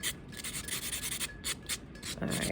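Buffing a press-on nail: a short rhythmic back-and-forth rasp of a nail buffer over the nail surface, close up, with quick strokes repeating steadily and growing slightly louder at the end.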